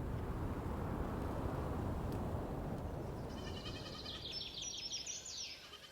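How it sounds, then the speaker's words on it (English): Goats bleat in the Viking village-building game Land of the Vikings, a cluster of short cries rising in the latter half over a steady, busy ambient game background, with no talking. "Goats are breeding."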